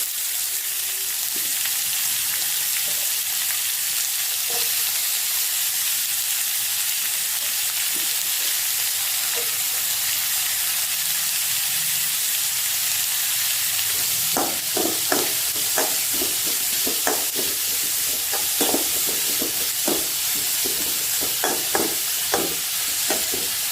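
Onions frying in a pan for potato masala bonda, a steady broadband sizzle throughout with a run of sharper crackles and pops building in the second half, close and fairly loud, no talking.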